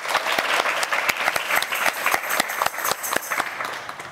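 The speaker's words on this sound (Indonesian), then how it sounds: "Kita aplaus untuk Rama." Classroom applause for a junior high student named Rama: a steady patter of many hands clapping for about four seconds, close and lively, with no speech over it.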